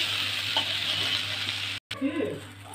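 Stuffed brinjals (gutti vankaya) fry in a pan with a steady, close sizzle and occasional stirring scrapes, broken by a brief silent cut.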